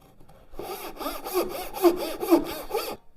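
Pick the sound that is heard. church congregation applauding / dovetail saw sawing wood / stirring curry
dovetail saw sawing wood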